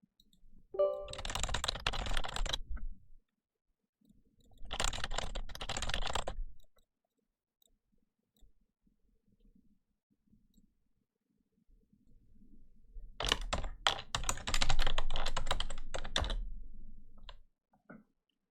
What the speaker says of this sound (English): I'm gonna go ahead and type BitLocker on the start menu